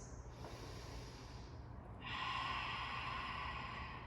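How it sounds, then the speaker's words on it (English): Deep breathing during a stretch, heard as slow, close, airy inhales and exhales through the nose, faint overall, with no talking. "Two deep breaths."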